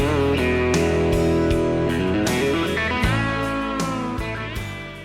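Electric guitar played through a Keeley modded Tube Screamer overdrive pedal in a country lead tone, a steady run of bright, slightly driven picked notes and bends, loud and alone with no talking.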